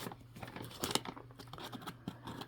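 A Canadian single-meal ration pouch is cut open from the back, close quiet crinkling and tearing of the packaging in short bursts.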